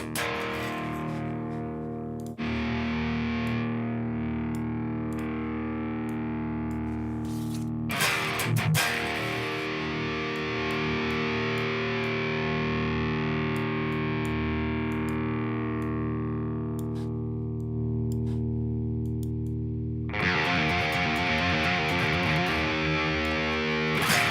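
Sustained distorted electric guitar chords through a Friedman amplifier ring out loud and saturated, with a brief muted break and a final chugging, fuzzy burst.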